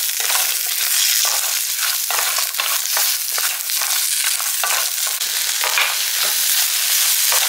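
Shallots and green chillies being sautéed and stirred in a pan for a vegetarian paya, with a constant bright sizzle broken by repeated scraping strokes of the spoon.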